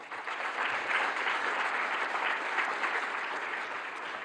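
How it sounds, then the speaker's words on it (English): A plenary audience at the closing of a science symposium gives a brief, steady burst of applause, many hands clapping evenly for about four seconds with no voices. "A big applause for them."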